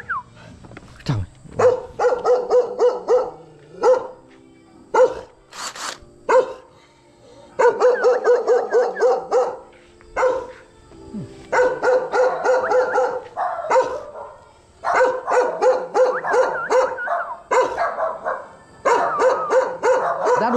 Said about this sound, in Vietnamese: Đuổi chó cho chú cái.